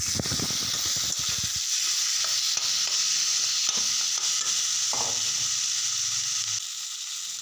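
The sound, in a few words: fish frying with amara tenga and potato paste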